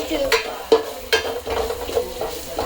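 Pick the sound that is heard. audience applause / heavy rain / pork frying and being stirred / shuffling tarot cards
pork frying and being stirred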